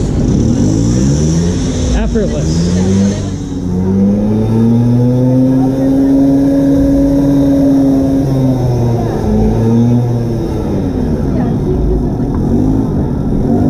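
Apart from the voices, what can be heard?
raffle motorcycle starting and revving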